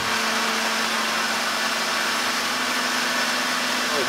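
A tunnel drilling rig at a subway construction site underground grinds and hums in a steady, dense, continuous roar, with no pauses or talk over it.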